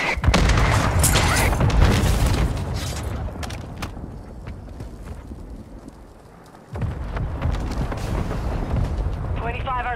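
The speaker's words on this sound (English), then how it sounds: "Hostile mortar strike near your position." Mortar strike explosions in Call of Duty MW2, heavy booming blasts with rumbling debris that fade, then a fresh loud impact, all close and dense, with a game voice announcing over the action.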